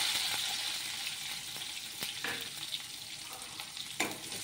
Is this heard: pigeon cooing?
no